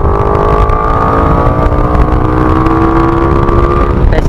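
A Raider 150 FI motorcycle fitted with a 14/39/428 sprocket set accelerates on a test ride, a loud steady engine drone climbing slowly in pitch, wind rush throughout, heard from the rider's position.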